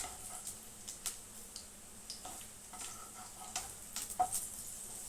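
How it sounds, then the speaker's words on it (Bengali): Fulki, yogurt fritters, sizzle in hot oil with a steady crackling hiss, broken by sharp ticks and pops and a few brief clinks of a utensil. "আমার ফুলকিগুলো ভাজা।"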